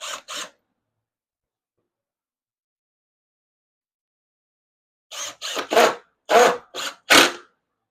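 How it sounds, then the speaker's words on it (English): A power drill drives coated one-inch screws into cedar boards for a raised sandbox, with two short bursts at the start and then a run of six quick, close bursts after a silent pause. "let me put a few screws in this stuff so that it doesn't come apart while I'm moving it around"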